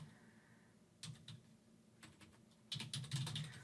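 Quiet bursts of keystrokes on a computer keyboard, a short cluster of clicks followed by a pause and then a denser, slightly louder run of typing, heard alone in a quiet room.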